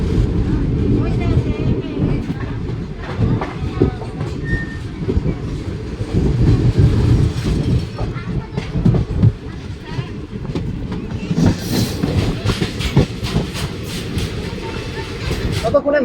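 A Haldibari tri-weekly Intercity Express in second seating class, running through the Malda district, gives a continuous close, loud rumble with rhythmic clickety-clack from the wheels. Faint voice-like murmurs sit under the rail noise.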